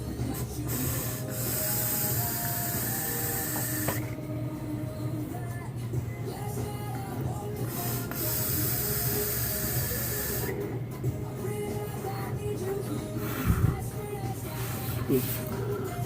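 A Vaperz Cloud VCST RTA tank fires on a Lava Box mod at around 75 to 85 watts, giving a steady, close hiss and crackle of coil vapor that runs continuously with brief shifts in intensity.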